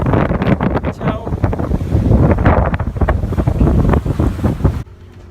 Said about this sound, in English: so it's quite stormy and rainy